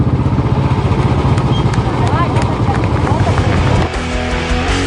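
Roaring motorcycle engines from a women's daredevil stunt team riding in formation for a Republic Day parade performance, a loud continuous throaty drone that drops in pitch near the end.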